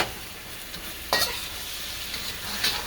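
Beef and broccoli stir-fry sauce thickened with cornstarch bubbles and sizzles softly in a pan, with a couple of louder stirring scrapes and no talking.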